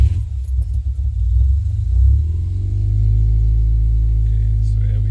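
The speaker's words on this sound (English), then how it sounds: "we'll try to start the car for the first time" A Subaru car engine cranks and starts, the starter churning briefly before the engine catches and settles into a steady, loud low idle rumble that continues to the end.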